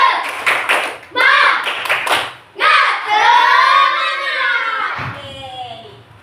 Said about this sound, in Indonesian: Ya, tepuk semangat dulu.